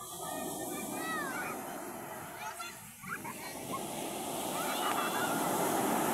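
Sea waves wash ashore in a continuous broad roar close by, while people talk and a cat-like meowing cry rises over the surf.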